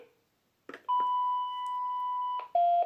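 A Daitem home alarm keypad gives a few short clicks, then a long steady electronic beep of about one and a half seconds followed by a second, lower tone, faint and close with no talking.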